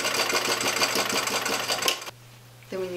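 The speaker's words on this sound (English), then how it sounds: "I have to sew two strips of boxing together to make a longer strip to go around the bigger cushions" Up close, a sewing machine joins two strips of cushion boxing fabric with a fast, rhythmic stitching chatter over a low motor hum, stops abruptly partway through, and leaves only the hum before a faint tone follows.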